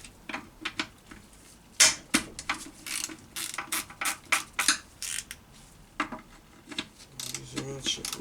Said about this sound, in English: Let's use a ratchet for this one.